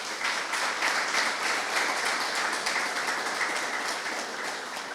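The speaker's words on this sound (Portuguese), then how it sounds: "Uma salva de palmas aos nossos" An audience at a book launch at the Instituto Camões gives sustained, even applause. The dense clapping runs the whole time without a break and fades only slightly at the end.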